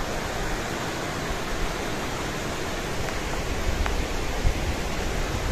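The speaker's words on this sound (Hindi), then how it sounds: "ये पानी गुजर रहा है नीचे से" Water flows beneath a mountain hiking track, a continuous broadband rush like a stream or small waterfall, steady and fairly loud with no voices.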